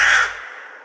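A single loud, close crow caw in a cartoon story, one harsh call that fades quickly with no voices over it.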